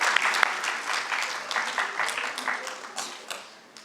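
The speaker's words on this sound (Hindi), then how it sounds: "जोरदार तालियों से स्वागत करें।" An audience at a theatre event gives hearty applause to welcome guests, with many hands clapping in a dense burst that gradually thins and fades, and a voice faintly present underneath.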